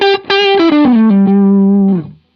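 An electric guitar runs through a Marshall amp model with distortion, playing a quick descending run of notes that ends on a long sustained note, loud and close, then cuts off.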